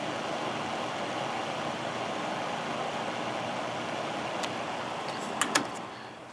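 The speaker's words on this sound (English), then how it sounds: "I'm running on fan only," A vintage Holmes space heater runs on fan only, giving off a steady, even whoosh of moving air that ends with a couple of sharp clicks.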